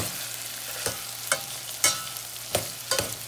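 Onion sautés in a pan, a soft continuous sizzle broken by a handful of spatula scrapes and taps against the pan, close and without speech.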